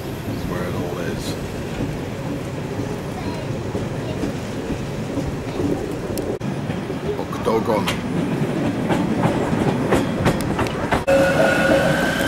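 Train at Basel railway station in Switzerland: a steady rumble and rolling wheel noise that grows louder toward the end, with a few clanks and squeaks, while a voice speaks briefly.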